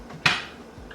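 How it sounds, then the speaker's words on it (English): A knife slices through a hard-boiled egg on a board, giving one crisp knock as the blade meets the surface, followed by a brief fading scrape; close and fairly quiet. "slicing the boiled eggs."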